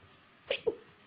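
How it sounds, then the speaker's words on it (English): A woman gives a single quiet, quick sneeze made of two short bursts in a fairly quiet room. "So, and I'm about to sneeze."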